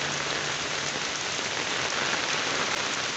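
Heavy morning rain pours outdoors in a village, a dense, constant broadband hiss of drops hitting surfaces with no pauses, close and loud, no talk.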